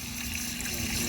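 Water rushes and trickles steadily into a toilet tank as it refills after a flush, a dense continuous wash with a low hum beneath and no talk.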